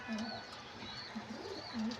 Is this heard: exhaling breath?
no